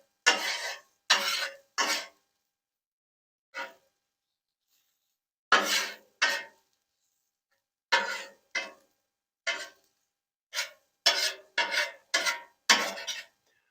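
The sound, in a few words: stirring eggs in a frying pan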